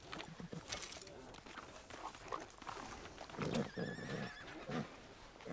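A horse whinnies and snorts in Red Dead Redemption 2, a high wavering neigh rising midway through, with hoof clatter and ambient game noise under occasional talk.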